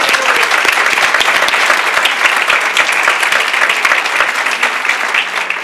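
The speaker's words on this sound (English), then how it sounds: "How about a big round of applause for our panelists?" A live audience at a New Jersey Attorney General panel event gives the panelists a big round of applause, dense and steady handclapping filling the room throughout without a break.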